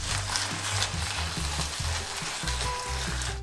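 Steady sizzling of tomato paste frying in a pan, with soft scraping and stirring strokes throughout, close and continuous.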